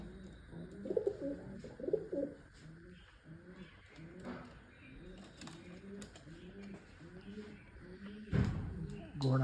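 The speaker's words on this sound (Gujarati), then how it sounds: "કબૂતર લ્યો" Pigeons coo in a steady run of soft, repeated low calls, while someone talks over them and a brief louder rustle comes near the end.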